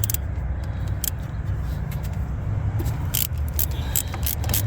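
T30 Torx driver loosening a bolt on the high pressure oil pump of a 1999–2003 Ford F-250 Powerstroke, giving a series of short metallic clicks and scrapes over a low steady hum.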